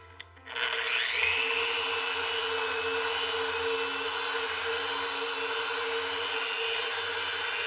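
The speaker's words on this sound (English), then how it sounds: "I'm going to start sanding this top" A power sander starts up on a pine table top with a brief click and a rising whine, then holds a steady, loud, continuous buzzing drone.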